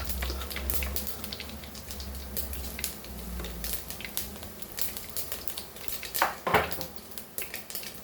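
Mustard and cumin seeds frying in oil in a pan, a faint continuous sizzle dotted with irregular clicks and pops, with a couple of louder clanks from utensils, no one talking.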